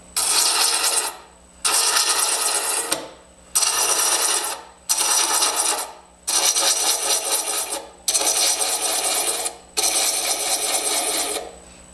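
Hand thread chaser cutting threads into wood, heard as eight evenly spaced bursts of dry, raspy scraping, each about a second long with short pauses between, close and clear with no voices.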